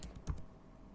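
Typing on a computer keyboard in Notepad, a quick run of three or four close key clicks in the first half-second, then quiet.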